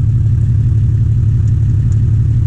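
The engine of an antique track hoe excavator runs at a steady idle, a loud, low, rumbling throb that continues without change and with no speech over it.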